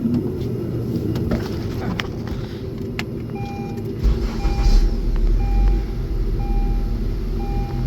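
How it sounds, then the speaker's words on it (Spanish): A car engine idling steadily after its PCM was replaced, with a louder rev partway through, while a faint regular beeping repeats in the background. "Voy a enseñar cómo hace el carro ahora."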